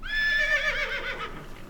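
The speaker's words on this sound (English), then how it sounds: "Thank you for looking after our horse" A horse in the Farming Simulator 17 video game lets out one drawn-out whinny, a loud, close, wavering neigh that falls in pitch and fades over under two seconds.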